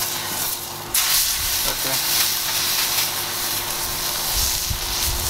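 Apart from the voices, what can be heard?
wagyu steak searing in a hot pan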